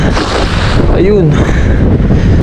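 Strong, cold wind buffets the microphone on open water with a constant heavy rumble, while a voice talks briefly over it.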